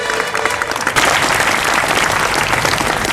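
Loud, sustained applause from a large crowd at a Patidar community conference, dense clapping that swells after the first second and continues steadily.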